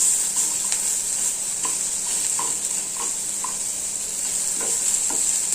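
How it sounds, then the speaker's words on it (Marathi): Vegetables and paneer frying in a pan, a steady close sizzle with occasional soft taps of a spoon stirring. "छान असं फ्राय करून घ्यायचं।"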